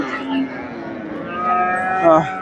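Bulls low and moo at a busy cattle market in Chandaikona, Bangladesh, several drawn-out bellowing calls, one louder near the end, with crowd murmur behind.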